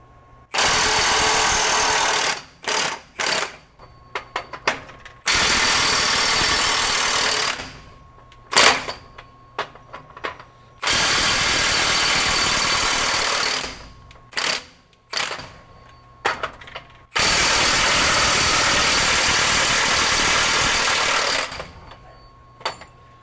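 Milwaukee 2967 M18 FUEL high torque impact wrench in reverse loosening large fasteners: loud, close bursts of rapid hammering lasting a few seconds each, with short stuttering blips and quiet gaps between them.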